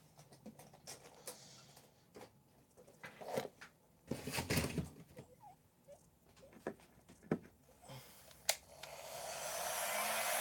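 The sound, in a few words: heat gun preheating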